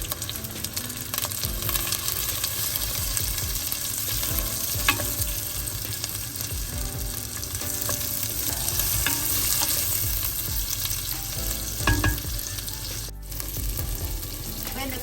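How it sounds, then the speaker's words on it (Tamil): Dried fish fries with onion and chili in a pan, making a loud, dense, continuous sizzle with stirring scrapes and scattered sharp pops throughout. "இந்த கருவாடு பொரிஞ்சிட்டுது."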